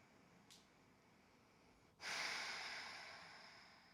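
A deep, breathy inhale and exhale during a strength-focused vinyasa yoga session: a faint short breath early, then a long, loud, airy exhalation that slowly fades, close to the mic and with no talking.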